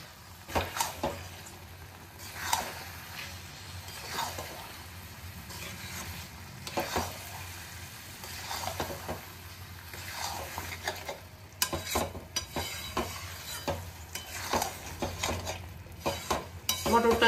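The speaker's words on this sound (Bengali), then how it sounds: "মটরটা দিয়েও একটু নেড়ে চেড়ে নেব" Boiled peas being stirred into a frying ghugni spice mix in a pan, with steady scraping stirs and a soft sizzle running throughout, close and moderately loud, no talking.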